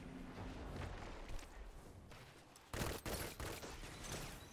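Claws of the Wolf pulse rifle fires in a first-person shooter, with bursts of rapid shots during a firefight, including a loud close volley in the second half, amid game noise.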